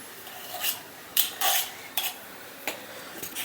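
A spoon scrapes and taps against a metal kurdai press mould while rava batter is filled in, several short clinks and scrapes spaced irregularly over a quiet background.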